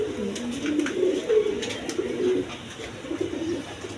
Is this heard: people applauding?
no